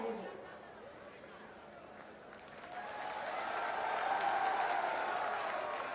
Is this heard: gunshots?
no